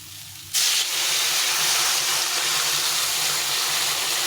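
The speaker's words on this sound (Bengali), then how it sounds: "এখন আমি একটু জল গরম করে রেখেছিলাম জলটা দিয়ে দেবো" Hot water hits a pan of spiced chickpea and papaya curry, setting off an abrupt loud hiss of steam that holds steady to the end.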